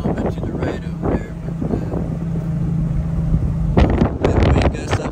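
Strong wind gusts buffet the microphone on a mountain peak, low rumbling blasts that rise and fall, with someone talking over them in parts.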